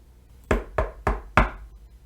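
A door with a chain lock is knocked four times, sharp, close, evenly spaced raps about a quarter-second apart, with a faint whoosh of wind in the trees behind them.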